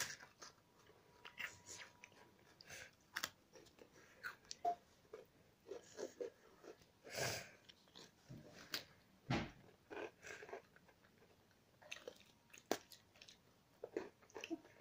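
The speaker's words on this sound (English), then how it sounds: "So, Sheepy just munches her biscuit quicker." A pet crunches and munches a biscuit close by, with a rapid irregular run of crisp bites and chewing throughout, under soft background noise.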